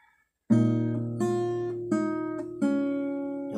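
Four plucked acoustic guitar notes ring out one after another, each left to sustain and decay before the next, played clearly and alone.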